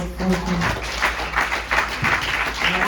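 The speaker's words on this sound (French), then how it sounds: "Applaudis le Seigneur." Congregation applauding during a church service, a steady dense patter of hands filling the room, with a voice speaking briefly underneath near the start.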